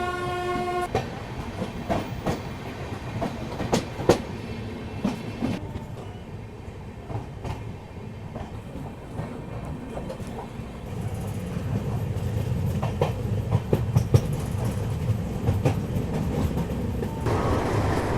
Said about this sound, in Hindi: अब देखिए आपने ट्रेन की रफ्तार जो है वो बढ़ चुकी है